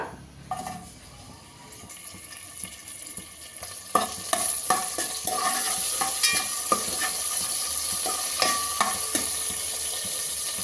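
Chopped tomatoes and slit green chillies frying in a pan: a continuous sizzle that grows louder partway through, broken by repeated scraping clicks as the mixture is stirred.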